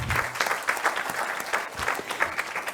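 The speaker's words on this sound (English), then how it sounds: "Can we give them a round of applause?" A small conference audience at an international event on the Rohingya crisis in Bangladesh claps in a round of applause, with individual claps standing out in an uneven, moderately close patter.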